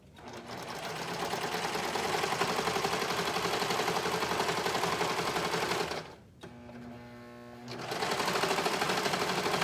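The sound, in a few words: sewing machine sewing center curved seam of shorts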